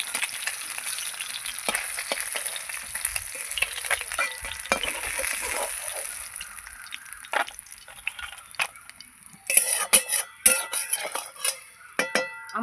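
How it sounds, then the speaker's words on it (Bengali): Tilapia fish frying in hot oil in a pan, a close crackling sizzle that thins out halfway, followed by clinks and scrapes of utensils against the pan, with no talk. "এই মাছগুলো আমার ভাজা হয়ে গেছে আমি তুলে নেবো"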